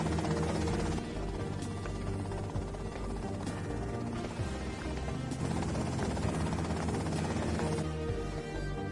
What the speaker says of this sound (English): that's them in the chopper